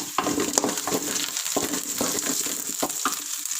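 Green chili and coriander leaves sautéing in hot oil give a dense, continuous sizzle, punctuated by repeated scraping strokes of a spoon stirring the pan at close range; no voices.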